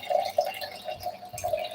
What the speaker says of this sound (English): As I'm pouring the water, I'm doing it very slowly.